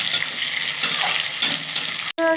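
Potatoes frying in oil in a pan for a Bengali cabbage dish, a continuous sizzle broken by a few rhythmic stirring scrapes, ending with a brief cut and a short tonal blip.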